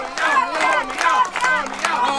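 A crowd at a chili-eating contest at the Inkoo chili festival cheers and shouts encouragement for a contestant, lively mixed voices filling the whole stretch without a break.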